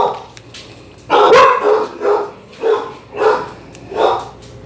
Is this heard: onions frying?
no